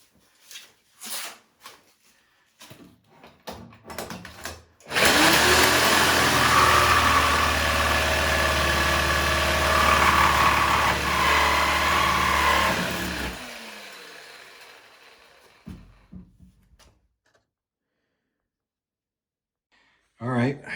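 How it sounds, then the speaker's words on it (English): Sawzall reciprocating saw fitted with a metal-cutting blade slicing through nails in salvaged wall studs during a bathroom remodel, a loud steady buzzing cut lasting about eight seconds, with brief knocks and handling noises before and after. "I'm going to use the metal blade and the Sawzall just to slice through those"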